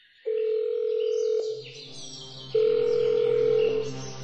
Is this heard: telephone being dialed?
yes